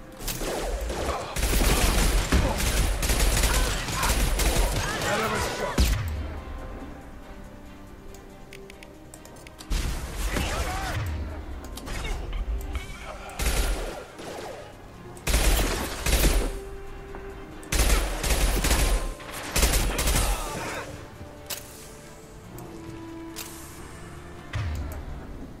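Bursts of gunfire in a Mass Effect 2 firefight, rapid volleys and single cracks coming in loud clusters separated by short lulls, with impacts and a low rumble between them.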